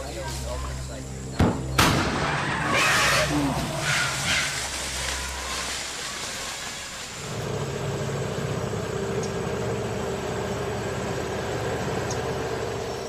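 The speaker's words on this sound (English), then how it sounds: "with homemade cannons." Homemade cannons fired by Borneo villagers to scare off pygmy elephants: a sharp loud blast near the start with a rumbling boom trailing after, then steady outdoor ambience.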